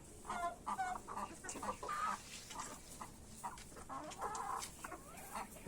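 Hens in a Filipino backyard poultry setting clucking repeatedly at close range, overlapping calls in an irregular rhythm with no talk over them.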